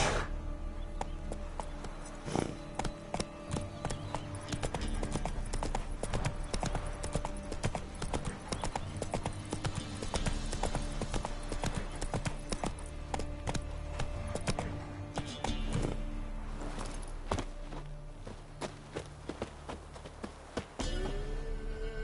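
Hooves of Roach, Geralt's horse in The Witcher 3: Wild Hunt, clip-clop in a brisk, continuous trotting rhythm, close and fairly loud over faint game ambience.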